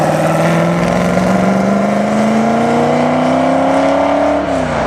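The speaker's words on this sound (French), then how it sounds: "Le V8, c'est vraiment la signature des américaines, avec ce bruit très grave, ce ronronnement sourd" A loud, deep American V8 engine rumble that holds steady and rises slowly in pitch as it revs, close and continuous, with no voices.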